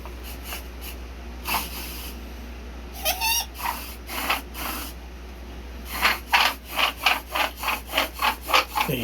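A bow drill spinning on a white fir fireboard, giving a dry rhythmic rubbing squeak that skips and jumps, quiet at first and then a run of stronger, evenly spaced strokes near the end.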